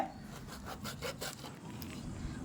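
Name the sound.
cutting young jackfruit with a knife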